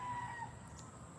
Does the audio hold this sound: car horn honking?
no